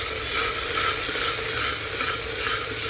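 Chickpea and potato curry being stirred in a pan after chilli powder, coriander powder and kitchen king masala go in, a steady broadband scraping and soft sizzle with gentle rhythmic stirring strokes, close and continuous.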